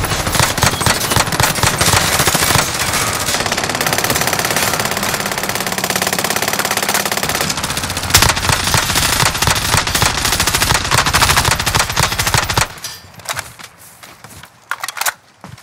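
Loud, rapid SMG fire in Call of Duty Modern Warfare, sustained automatic bursts close up for about twelve seconds before tapering into quieter scattered shots and movement.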